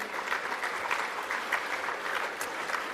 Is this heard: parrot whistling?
no